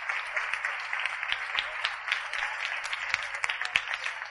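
Studio audience applauding a student in the second row at a Spanish science talk on hunger and the brain, a steady, moderately loud wash of clapping with scattered sharper claps throughout.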